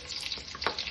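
Onions dropped into hot oil for a tempering while making paneer biryani, giving a short burst of soft sizzling and frying hiss, close and fairly quiet, with no talk.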